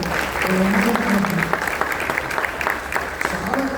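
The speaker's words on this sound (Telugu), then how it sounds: "మనందరూ చప్పట్లు పెడదాం ఒకసారి" An audience at a church leaders' meeting claps steadily for several seconds, a dense patter of applause with a voice heard faintly underneath at times.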